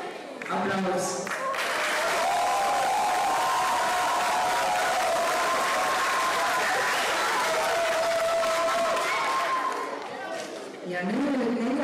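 Applause at a school playback contest swells into a sustained wash of clapping and cheering, with voices and shouts mixed in, fading briefly near the end.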